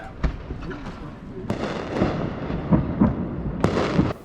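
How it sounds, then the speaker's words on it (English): Fireworks go off in the Juneau, Alaska area, launched from a barge in the channel: sharp pops and bursts at irregular intervals with crackling between, some strong reports, and voices faintly underneath. "the fireworks will be shot off from there"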